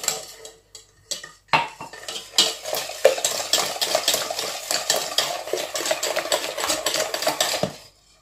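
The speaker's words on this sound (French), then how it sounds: "Vous mélangez bien." Carrot cake batter is mixed in a bowl, with rapid, rhythmic scraping and clinking of a utensil against the bowl, close and fairly soft.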